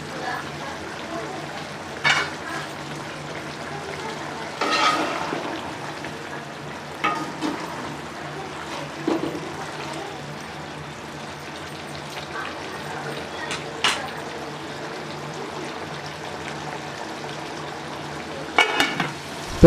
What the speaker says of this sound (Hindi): पेठा कद्दू का पानी अच्छे तरीके से खुश्क करेंगे।